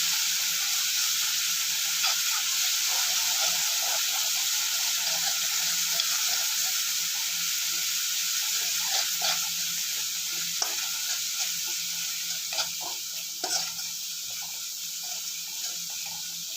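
Soaked, ground tamarind paste sautéing in a pan for South Indian tamarind rice: a steady close sizzle and frying hiss with soft stirring scrapes throughout, no talk.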